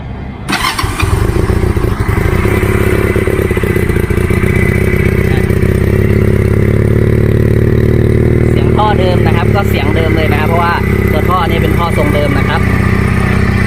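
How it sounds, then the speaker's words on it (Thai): A Legend 250 Brighton motorcycle engine starts up and settles into a loud, close, steady idle with occasional revs and mechanical clatter; someone speaks over it. "เดี๋ยวเราลองมาสตาร์ทดูนะครับ"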